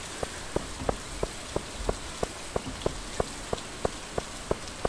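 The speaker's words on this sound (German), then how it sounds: "Es regnet, die Pflanzen bekommen Wasser." Steady game rain from Stardew Valley patters evenly, with soft drop ticks repeating at a regular beat of roughly three per second over a constant hiss.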